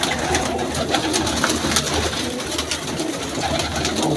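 A pigeon coos steadily in the near field, soft repeated calls over a busy outdoor background of rustling and ambient noise, with no talking.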